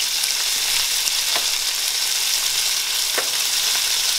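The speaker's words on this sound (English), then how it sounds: "I have this cooking in coconut oil" Food cooks in hot coconut oil with an even, close sizzle and hiss throughout, broken by a couple of faint pops and stirring touches, with no one speaking.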